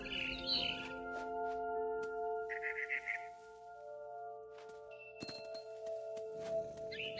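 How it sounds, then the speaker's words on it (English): Barn swallow chirping outside a window in the video game What Remains of Edith Finch: short bright twittering calls come in bursts over a sustained, soft musical drone, with no talking. "Then I heard chirping outside my window. It was a barn swallow going back to her nest."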